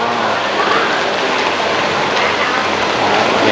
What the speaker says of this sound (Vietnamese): Hiện tại thì đang đổ mưa rồi,